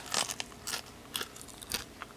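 Crisp crunches of someone biting into seasoned baked potato skins, several sharp bites spaced irregularly with chewing in between, close and fairly loud with no talk.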